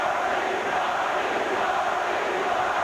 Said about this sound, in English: Crowd chanting Marley's name.